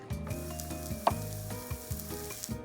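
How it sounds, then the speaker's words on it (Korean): Wagyu beef and abalone sizzle and crackle on a hot grill at a Kurokawa ryokan, a steady close frying hiss with faint clinks and light stirring noises. "전복도 몇 점 같이 구우면 맛있다고 해서 구워봅니다"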